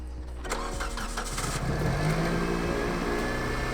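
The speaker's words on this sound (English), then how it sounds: "fire it up, Corey" A Toyota Corolla engine, just fitted with a swapped transmission, cranks and fires, then settles into a loud, steady close-up run with a little revving.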